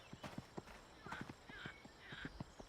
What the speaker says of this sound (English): That sounds like a horse.